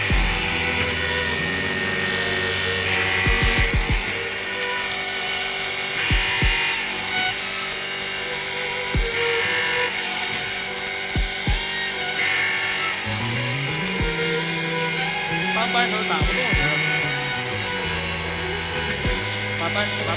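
A low-profile hydraulic torque wrench pump runs steadily as it pressurizes during a loaded test, giving a continuous loud mechanical drone with rising and shifting tones and a few sharp clicks.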